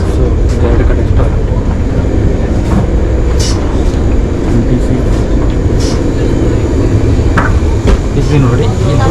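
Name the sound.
train running through ice in Russia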